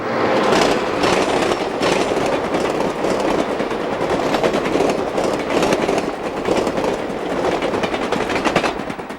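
Northbound Cincy passenger train rushing past Wayne Junction Tower on the B&O, a loud continuous rumble with rhythmic clickety-clack of wheels over rail joints, close by throughout.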